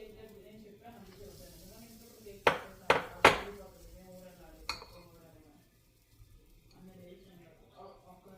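Waffle batter goes into a waffle maker at home for breakfast. A few sharp metallic clacks from the lid closing stand out against a quiet kitchen, with a voice talking softly before and after.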